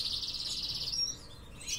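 Grey birds chirping, a thin, steady run of high calls near the start, then a briefer call near the end over a low background rumble.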